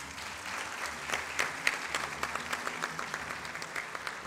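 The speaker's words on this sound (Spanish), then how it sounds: "Para todos, un fuerte aplauso." Steady applause from a crowd at an Olympic gala ceremony, a moderately distant, continuous wash of clapping with scattered sharper claps, heard alone without talk.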